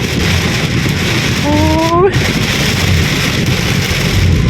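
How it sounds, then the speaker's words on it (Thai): Heavy rain pours down during a storm in Bangkok, a loud, unbroken wash of noise, with a brief rising tonal whine partway through. "ฝนตกนักแห้งพี่น้องนะครับ"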